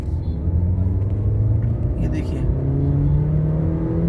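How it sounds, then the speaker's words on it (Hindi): Maruti S-Cross automatic hybrid running on CNG accelerates hard, its engine a steady droning rumble that swells slightly as it pulls, with someone speaking briefly over it. "अब मैं आपको गाड़ी भगा के दिखाता हूँ"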